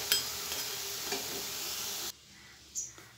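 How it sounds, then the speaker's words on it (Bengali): Food frying on low heat while being stirred, a steady close sizzle with a few scraping touches that cuts out abruptly, leaving a quiet moment and one brief clink. "বারবার কিন্তু নাড়াচাড়া করতে হবে, আর একটু অল্প আঁচে ভাজতে হবে"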